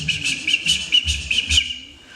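A person whistles a short tune alone, a run of about six clear, high, bird-like notes in a steady rhythm that fade out at the end.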